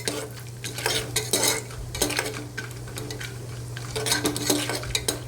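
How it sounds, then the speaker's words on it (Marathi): Chopped almonds fry in hot oil in a pan for gur lapshi, a soft sizzle under busy scraping and clinking as a spatula stirs them, with no talk. "तर बदाम आपले चांगले तळून घ्यायचे आहेत"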